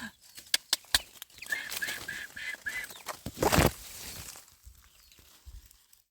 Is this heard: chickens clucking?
yes